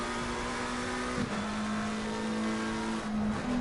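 GT3 race car engine at Bathurst in Assetto Corsa Competizione, a steady high-revving drone holding one pitch, briefly dipping and climbing again near the end, loud and continuous with no talk.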